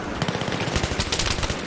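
Light machine gun laying down suppressive fire in Battlefield 3, a rapid steady stream of sharp bursts close by and loud, with no talk over it.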